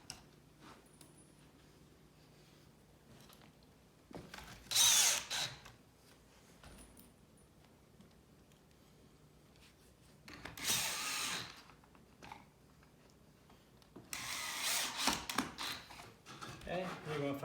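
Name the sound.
power drill driving screws into a shoe bench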